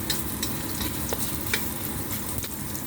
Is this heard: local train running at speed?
no